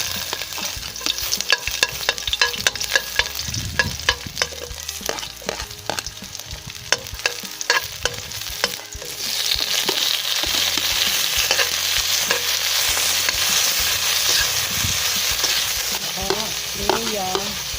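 Garlic, ginger and tomato are sautéed in a pan: a spatula scrapes and clacks against the pan in uneven strokes, then a louder, steady oil sizzle takes over for the second half.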